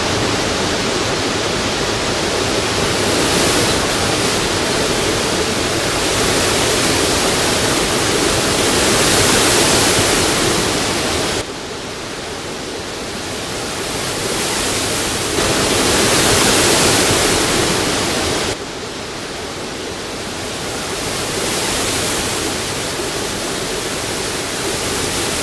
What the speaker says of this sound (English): The Paria Falls, on the other hand, collects into a large, beautiful pool, making it ideal for swimming.